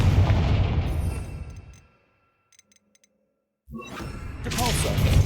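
Confringo blasting spell explosions in the video game Hogwarts Legacy: a loud booming burst that dies away into near silence with faint chimes, then a second explosive blast erupts and rumbles on.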